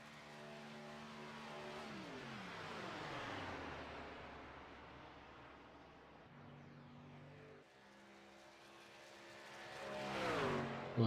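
An electric race truck laps a Las Vegas track, its rising and falling motor whine sweeping up and down in pitch as it accelerates and passes, fairly steady and moderately loud throughout with no talk.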